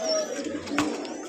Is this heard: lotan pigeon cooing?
yes